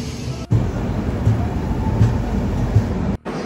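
A train rolls past a station platform with a steady low rumble and rhythmic wheel thumps at regular intervals, loud and close, with brief dropouts near the start and end.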